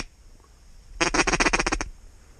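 Mallard ducks quack in a rapid burst of about seven close, loud calls around a flight pond, preceded and followed by quiet outdoor ambience.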